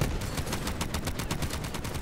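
Turret gunfire in the video game Borderlands 3 hammers out a fast, continuous automatic burst, loud and close throughout.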